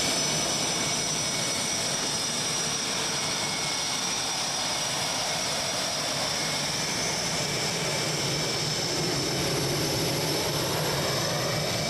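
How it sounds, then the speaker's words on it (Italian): Eurofighter, F-35 and F-16 military jets fly during a joint Italian, Swiss and American exercise at Istrana air base, a loud steady roar of jet engines continuing throughout, no talking. "In volo gli Eurofighter e gli F-35 dell'Aeronautica Militare Italiana assieme agli F-35 della Svizzera e gli F-16 americani"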